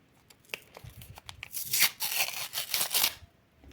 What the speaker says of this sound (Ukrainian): Давайте розпакуємо пакетик.